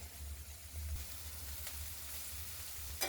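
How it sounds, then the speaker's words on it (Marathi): Onion and peas with turmeric sauté quietly in a pan, a soft, steady sizzle with a low background hum and an occasional faint stir. "वाटाण्याला 1-5 मिनिट परतून घेते"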